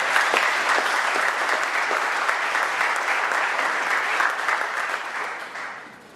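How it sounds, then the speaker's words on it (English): An audience claps for the panelists at a talk on whether democracy is for sale, loud sustained applause that stays full before thinning and fading away near the end. "I think they deserve another round of applause"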